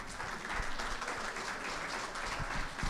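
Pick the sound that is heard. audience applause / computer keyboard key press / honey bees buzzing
audience applause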